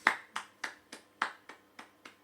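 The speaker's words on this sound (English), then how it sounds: "Just a soft clap for that one" Eight soft hand claps in an even, steady rhythm, close and fairly quiet, with no talking.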